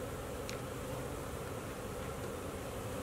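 Honey bees buzz continuously during the installation of a package into a hive, a dense close swarm hum with brief louder passes and no talking.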